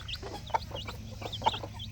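A mother hen clucks among her baby chicks, with two sharper clucks standing out over soft, scattered chick peeps and a constant low background rumble.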